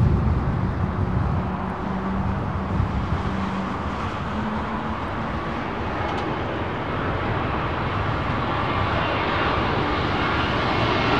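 Airliner arriving on runway 27L at London Heathrow on a windy day, a loud continuous roar of engines and rushing air holding steady for about ten seconds, with no talking.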